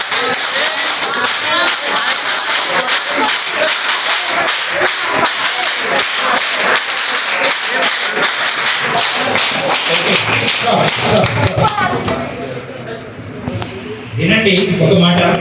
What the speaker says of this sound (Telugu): ఈ చప్పట్లు కొట్టడం ఏముంది?